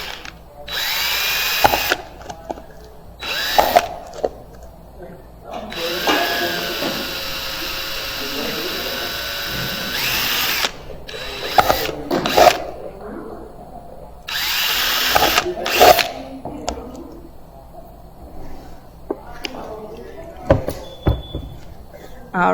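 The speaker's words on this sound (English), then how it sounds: "we are going to drill straight down for a couple of holes" A power drill bores a few small drainage holes straight down through a plastic yogurt cup, loud whirring bursts starting and stopping, with a person speaking in the gaps between them.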